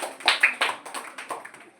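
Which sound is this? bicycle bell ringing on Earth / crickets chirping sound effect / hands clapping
hands clapping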